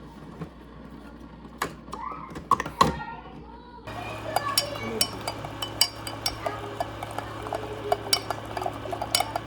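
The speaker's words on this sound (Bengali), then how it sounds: "তারই প্রিপারেশন নিচ্ছি এখন একটু কফি বানিয়ে নিচ্ছি" Metal spoons and cups clink and tap repeatedly in a home kitchen while coffee is being made, sharp close knocks over a low steady hum, with a brief voice early on.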